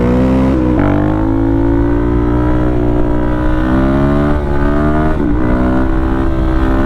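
A DRZ400 motorcycle with a Yoshimura RS-2 exhaust, baffles removed, holds a loud, raspy engine note close by, swelling into one rising rev and then settling into a steady throaty drone, with no voices.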